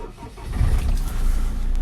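A 2015 Land Rover Defender 130 with a 2.2 TDCI diesel engine cranks and fires up, a brief low rumble settling into a steady idle, close by and with no talking.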